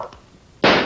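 A Tommy gun fires in a live 1955 television drama: one loud, sharp burst after a short faint stretch with a muffled voice, the blast cutting off at the end.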